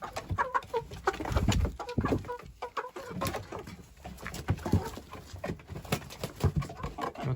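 Several roosters cluck and mutter close by while eating duckweed, amid busy pecking and shuffling sounds, a steady chatter of fowl noises without talk.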